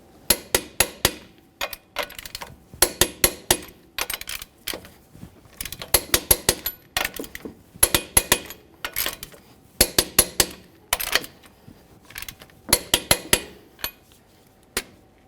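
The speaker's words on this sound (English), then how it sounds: "We'll torque these lug nuts in a crisscross manner to 140 foot-pounds." Lug nuts on a Chevrolet Silverado wheel get tightened with a torque wrench, producing repeated sharp metallic clicks in quick clusters of three to five, close and crisp, recurring steadily across the whole stretch.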